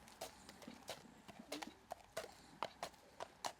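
A horse named Turpin being walked out of a yard, hooves clip-clopping in an uneven walking rhythm, each step a crisp hit on hard ground, moderately close and fairly quiet, with no talking.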